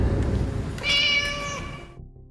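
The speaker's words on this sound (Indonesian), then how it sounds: "ternyata suara itu berasal dari seekor kucing" A single cat meows once, a clear, drawn-out tonal cry heard fairly near over a low, rumbling background.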